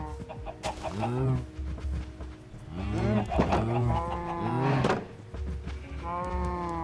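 Cows moo repeatedly in Minecraft, several loud drawn-out lows in close succession, with chickens clucking faintly in the background.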